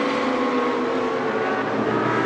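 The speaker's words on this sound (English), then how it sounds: "Porsche blasts back down the pit lane then," A Porsche GT2 race car droning steadily through the pit lane at Paul Ricard, a continuous engine tone at moderate distance, even and unbroken with no talking.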